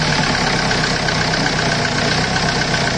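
A Ford Ikon diesel engine runs at a steady idle after a turbo fitting, a loud, even, close rumble with a faint knock and no talk.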